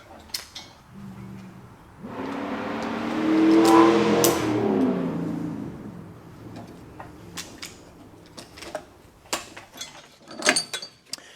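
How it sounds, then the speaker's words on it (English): A Chevrolet Corvette drives past outside a home workshop, its engine swelling to a loud rising rev and then fading away. A few scattered clicks and knocks follow afterward. "that was my buddy's Corvette that just went by, in case y'all heard that sound"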